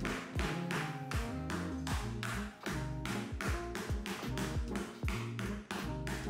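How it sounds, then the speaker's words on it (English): Lemongrass struck repeatedly with the back of a knife on a board for a Vietnamese chicken curry, a close, fast run of sharp knocks through the whole stretch, with no talking. "we'll bruise our lemongrass by smacking it with the back of your knife"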